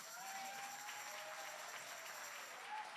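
Audience applause at a live East Bay community event, a steady wash of many hands clapping at moderate distance that holds evenly throughout without talk over it.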